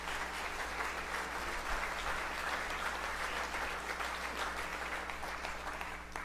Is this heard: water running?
no